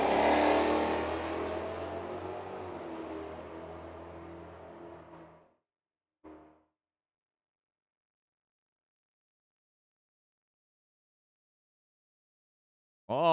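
At a drag strip, race cars including a Mustang roar hard under acceleration, loud at first and then fading away into silence, with a brief faint burst afterward.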